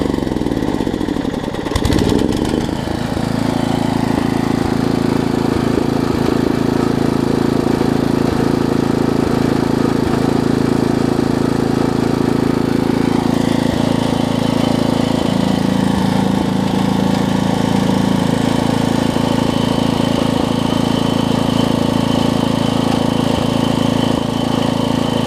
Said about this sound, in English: Idles down nice and low